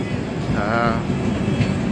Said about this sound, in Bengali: সেই ট্রেনটি কৃষ্ণনগরের ওপর দিয়ে যাচ্ছে।